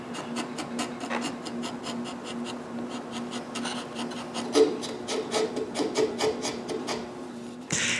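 Hand sanding of carved wood on CNC-cut rabbit and Santa Claus figures: a steady run of quick, close rasping strokes with a faint hum underneath, no voices.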